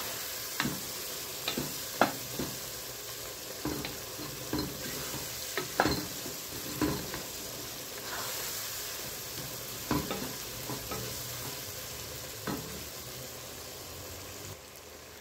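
Pasta with sausage and mixed spices being stir-fried in a pan: a steady sizzle runs underneath as a utensil scrapes and tosses the food in frequent, irregular strokes, close and fairly loud, with no talking.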